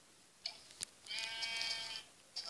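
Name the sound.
sheep bleating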